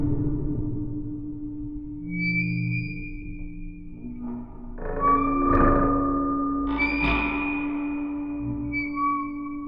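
Contact-mic recordings of wooden creaks and groans, played back with light digital reverb for an eerie haunted-house mood: slow drawn-out tonal groans, scraping swells and a thunk or two, fairly close and alone.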